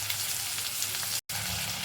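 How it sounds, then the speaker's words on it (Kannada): Ginger garlic paste sizzles and fries in a pan, a steady close crackling hiss that runs throughout and breaks off for an instant of silence midway before resuming unchanged. "ಈಗ ನಾವು ಇದಕ್ಕೆ ಒಂದು ಸ್ಪೂನಷ್ಟು ಶುಂಠಿ ಬೆಳ್ಳುಳ್ಳಿ ಪೇಸ್ಟನ್ನು ಕೂಡ ಸೇರಿಸ್ಕೊಳ್ಳೋಣ"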